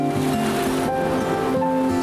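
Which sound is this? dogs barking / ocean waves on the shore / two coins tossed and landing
ocean waves on the shore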